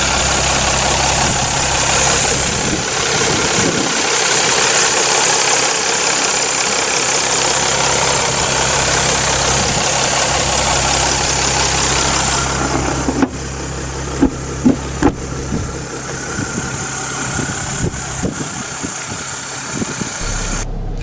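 A 2006 Chrysler 300C's 3-litre V6 diesel idles steadily with a low, even rumble and faint knock, heard alone; partway through the tone shifts and a few short thumps and clicks sound nearby.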